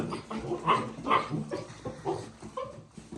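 Young Kangal puppies in a dim kennel, a few soft whimpers and small yelps in uneven bursts, close and fairly quiet.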